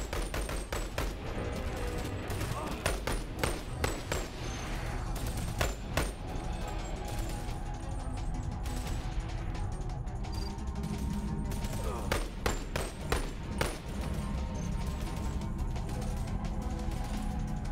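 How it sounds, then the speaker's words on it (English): Turret fire in the VR game Boneworks crackles as dense, continuous volleys of shots mixed with clanking impacts and game noise, loud and close throughout, with a voice talking over it at times. "What is shooting at me?"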